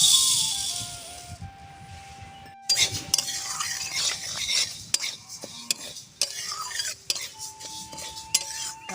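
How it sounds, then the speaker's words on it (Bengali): Mung dal is dry-roasted in a pan on a stove, with a spoon scraping and clinking against the metal in irregular strokes over a faint steady background hum. "শুকনো খোলায় মুগের ডালটা ভেজে নেব।"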